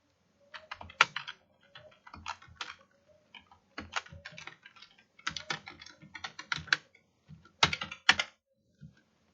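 A file name is typed on a computer keyboard in short bursts of quick, close keystrokes separated by brief pauses, crisp and fairly quiet with no talking.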